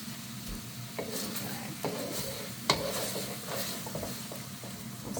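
Ginger and garlic sizzle softly in a hot pan for a beef and broccoli stir-fry, with a utensil scraping and stirring through them and a few light clacks against the pan.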